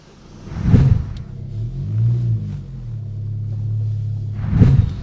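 A car engine, with the work being done on a BMW G80 M3, rumbles at low idle and pulls away slowly out of a workshop, with two louder revving swells near the start and end and a steady drone between them.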